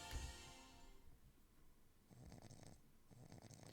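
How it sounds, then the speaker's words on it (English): Slow, soft snoring played as a sound effect at an inn in a fantasy role-playing video game, a couple of rumbling breaths drawn out under quiet background music. "There's some snoring sound effects for inn music"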